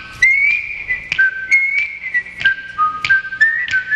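A single person whistles a bright, lilting melody up close, short phrases with small pauses between notes.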